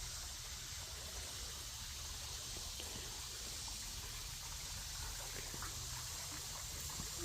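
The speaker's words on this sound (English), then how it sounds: "some of the water looks like it's coming that way, but you can see it's rushing really fast" A fast-flowing stream runs along a trail, giving a faint, steady rushing wash of water with no break or change across the stretch and no voices.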